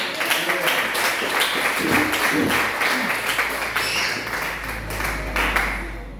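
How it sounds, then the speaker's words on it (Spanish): A church congregation claps in praise during a worship service, steady dense applause throughout, tapering off at the end. "Bríndele palmas al Rey."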